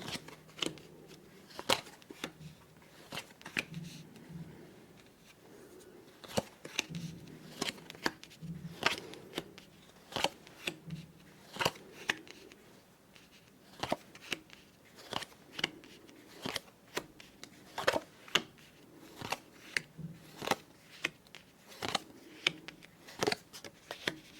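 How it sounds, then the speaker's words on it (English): Playing cards being dealt for a Monte Carlo solitaire game in a quiet setting, heard as a long, irregular run of soft, close snaps and slides as cards are laid down, with a low voice murmuring in places. "We deal 5 rows of 5 cards each."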